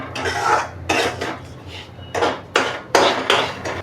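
A metal spoon scraping and knocking against a pan while varai rice (bhagar) roasts, repeated bursts of clinking and scraping at a quick irregular rhythm, close and fairly loud.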